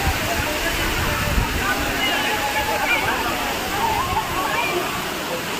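A waterfall at Charlotte Lake in Matheran, India, pours steadily in a constant broadband rush of falling water, with people enjoying themselves beneath it.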